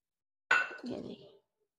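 A spoon mixing garlic pickle in a bowl makes a single short clink followed by a brief scraping stir, close and soft, then silence.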